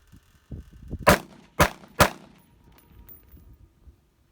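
An AR-15 rifle sighted in with a scope on a range: three sharp, fairly close shots fire in quick succession, with softer handling noises just before and a faint ringing tail after.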